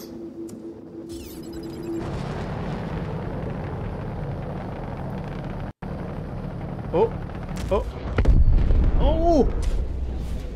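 An enemy Reclaimer ship explodes in the space game Star Citizen after a torpedo run, with a broad rumbling roar that swells near the end; a voice exclaims over it.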